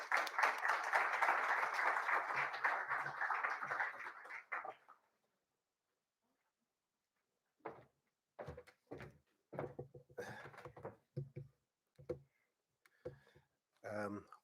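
Audience applause for presenters at a conference event, a dense wash of clapping for several seconds that fades out, followed by silence and scattered sounds with a voice beginning to speak.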